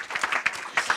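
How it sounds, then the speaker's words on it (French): Brief scattered applause from a conference audience at a marine education event, a handful of uneven claps over about a second, fairly soft. "Et on peut encore les applaudir."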